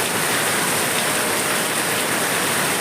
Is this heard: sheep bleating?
no